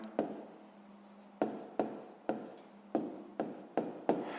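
A pen writes by hand on paper in a run of short, close strokes and taps, each followed by a brief scratch, with no talk over them.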